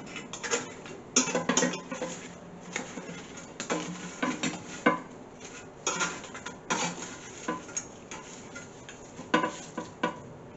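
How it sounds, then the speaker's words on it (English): A fork scrapes and clinks against an air fryer basket while lifting out hot french fries, giving irregular light metallic taps and rattles at close range. "They're a little on the hot side, so I'm using a fork to get them out here."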